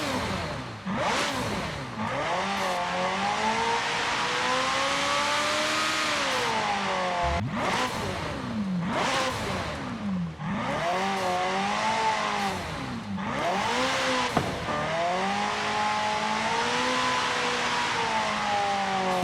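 Two hypercar engines in Forza Horizon 5, the C Zinger and the McLaren Senna, sharing one V8 sound: loud, close engine revving up and down repeatedly in sweeping rises and drops, with gear-shift breaks, alone without talk.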